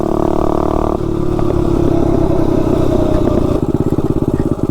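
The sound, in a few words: mini bike engine with DIY exhaust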